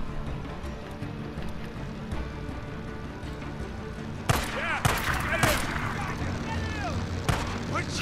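Gunfire in the Days Gone video game, loud bursts of shots cutting in over a dense rumbling game soundscape, with a person talking over the action.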